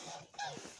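A red rooster gives a brief, faint cluck-like call for under a second, close by and quiet.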